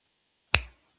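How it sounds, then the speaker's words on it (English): A single sharp finger snap cracks out of near silence, crisp and close, with a quick fading tail. "as I snap my fingers"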